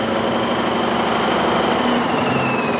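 A Staubli high-speed jacquard weaving machine runs at 1500 RPM, giving a loud, steady, dense mechanical clatter and whir with no break throughout.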